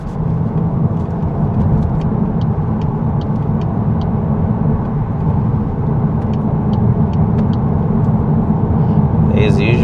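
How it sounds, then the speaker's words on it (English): Steady low road roar and tyre rumble from a 2026 VW Golf 8.5 GTI driving over a rough road surface, heard continuously from inside the car with faint ticks above. "I'll talk about like road noise. I mean, this surface that we're driving on is pretty rough"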